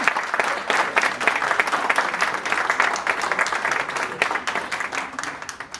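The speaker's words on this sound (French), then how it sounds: "Je voudrais qu'on l'acclame très fort, s'il vous plaît." An audience at a political party rally in Washington DC applauds a speaker, with dense, steady clapping sustained throughout.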